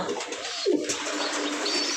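A pigeon coos softly, close by and brief, against a steady background hiss with a faint chirp.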